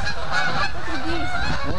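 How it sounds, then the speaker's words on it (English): A flock of geese flying overhead honks loudly and continuously, the calls overlapping in a dense, close chorus for the whole short stretch. "A flock of geese just flew over, and I didn't have time."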